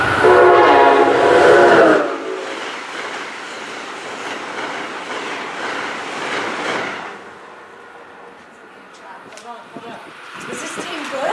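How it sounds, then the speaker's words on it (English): A Nathan K5LA air horn sounds on an ACS-64 electric locomotive, a loud close chord blast for about two seconds, followed by the rumble of passing rail cars that fades toward the end. "They were also equipped with Nathan K5LA air horns. Here are a few examples."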